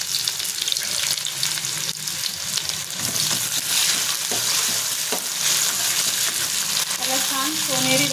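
Garlic and one large chopped onion hit hot oil in a pan, giving a steady, close sizzling hiss with occasional stirring scrapes throughout.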